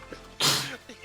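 A single sharp sneeze bursts out close by, preceded by a quick intake of breath, with faint voices around it.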